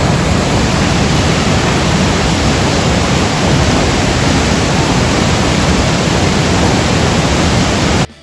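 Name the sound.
Johnston Canyon Lower Falls waterfall, Banff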